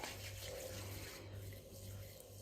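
Water runs from a tap onto cleanser held in the hands during a skincare routine, a soft, steady trickle and gentle rubbing, close but quiet, with no talking.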